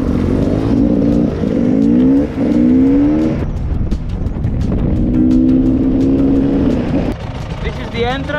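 A Beta enduro motorcycle engine revs hard in Greece, climbing through several rising pitch sweeps with short gaps between pulls, close and loud, then a final quick burst of throttle.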